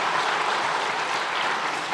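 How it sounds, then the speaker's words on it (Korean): A congregation applauds inside a church during a Sunday service award presentation, with steady, dense clapping holding at an even level throughout. "박수로 격려해 주시기 바랍니다."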